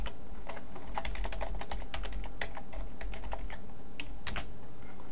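Someone typing code on a computer keyboard, with rapid, irregular clicks of keys continuing steadily at close range, in a quiet room without speech.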